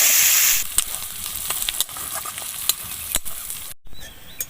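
Chopped onions frying in a pan for a jackfruit curry, a loud continuous sizzle broken by repeated spatula clinks and scrapes, with a sudden brief drop near the end and no talking.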